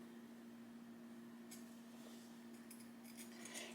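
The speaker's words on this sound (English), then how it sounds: "I'll take my pinking shears and I'll kind of just start behind that" Pinking shears snip through blanket fabric along a stitch line, giving faint, quiet crisp cutting bursts over a steady low hum, growing busier toward the end.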